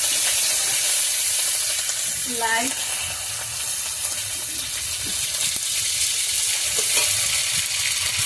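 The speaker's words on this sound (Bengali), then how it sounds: "মাছের লেজাগুলো খুব ভাজা হয়ে গেছে" Fish tails fry in a pan with a soft, continuous sizzle and crackle, fairly faint and steady, while a voice briefly speaks partway through.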